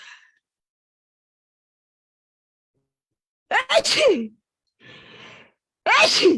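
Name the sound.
sneeze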